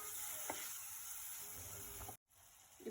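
Phool makhana kurma ingredients fry in a pan with a steady close sizzle and a few stirring clinks, cutting out briefly near the end before resuming.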